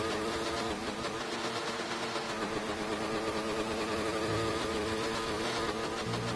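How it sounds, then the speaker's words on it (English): An F2 race car engine in a sim racing game at France bounces off the rev limiter: a continuous buzzing, rapidly stuttering high-rev drone, steady and moderately loud throughout. "You can hear the car bouncing off of the rev limiter."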